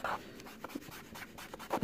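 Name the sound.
cotton swab rubbing pastel on paper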